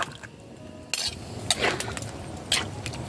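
A utensil stirring jackfruit in a cooking pot, with several distinct scraping clacks against the pot's side spaced irregularly over a soft simmering background, close and clear with no talking.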